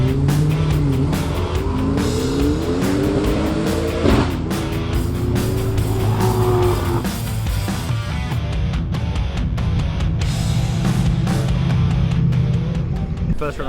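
Hennessy Venom F5 with a twin-turbo V8 driving on an open road, a loud continuous engine drone rising and falling in pitch as it revs through gears, heard from inside the car with a low voice now and then.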